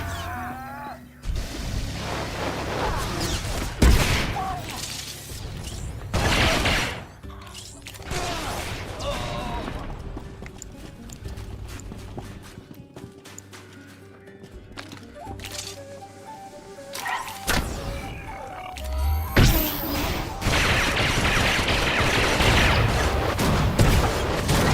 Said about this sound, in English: I'm playing the Arsenal spec for Mercenary on this guy. So it's just pretty much all missiles and shit.